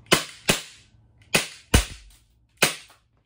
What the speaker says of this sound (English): Look, green gas mag had the CO2 gun. Look, it shoots good though.